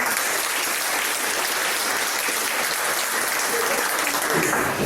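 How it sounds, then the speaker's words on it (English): A room of Rotary Club members gives a sustained round of applause at their meeting, steady dense clapping filling the whole stretch with a faint voice underneath. "so a round of applause"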